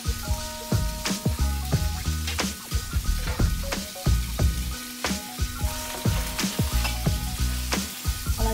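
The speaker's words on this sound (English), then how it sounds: "Be very careful because your pan is hot. It is popping just a little bit" Chicken fries in a hot pan on an electric stove with a steady sizzle and frequent sharp pops scattered throughout, and no one speaks.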